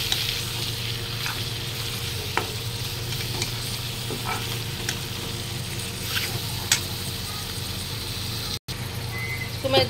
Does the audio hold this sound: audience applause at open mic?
no